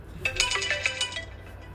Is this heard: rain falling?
no